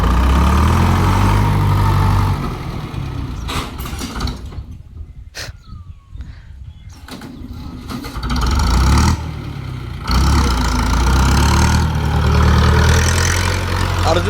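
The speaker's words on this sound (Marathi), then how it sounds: "ट्रॅक्टरला जोरात ताकदच आहे 4 पिस्टन असल्यामुळं." A four-piston tractor engine runs at a steady idle with a deep low rumble, dipping quieter for a few seconds in the middle before returning to full, close-up loudness.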